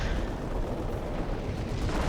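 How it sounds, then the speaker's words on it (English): Artillery barrage from a Hummel or Sturmpanzer in Company of Heroes, Operation Market Garden: a dense, continuous rumble of heavy blasts and battle noise, loud and unbroken with no distinct single shots. "So here's an artillery barrage over on the right. It's the Hummel, or the Sturmpanzer."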